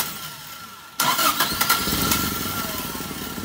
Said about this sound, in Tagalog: Patayin nyo tapos paandarin nyo ulit.